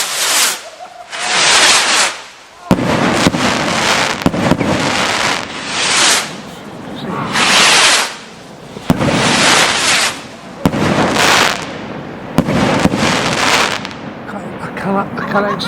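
Raw Rockets Pyroworx fireworks from a ten-pack go off in a rapid series of loud, crackling bursts, each lasting a second or two with brief gaps between them, close by and dominating the scene.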